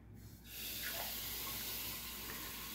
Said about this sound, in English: Let's go right now and let's fill up the water from the tap.